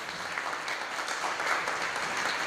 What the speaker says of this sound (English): a round of applause for their efforts